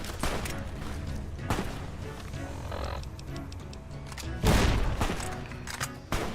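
Gunshots in Fallout: a few loud, sharp blasts spaced apart, the strongest near the end, set against a dense rumbling game background with growling creature-like noise.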